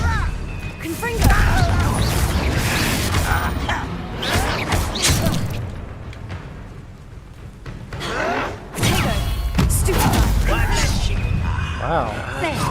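A Confringo spell blast goes off in Hogwarts Legacy, with heavy booming, crashing bursts amid the combat, loud and close, and a voice speaking during the fight.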